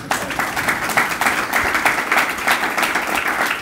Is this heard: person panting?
no